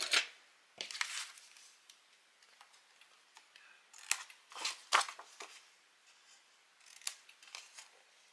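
Scrapbooking paper being bevel-cut by hand, heard as a scattered series of short crisp snips and scrapes with quiet gaps between them, close and moderately loud.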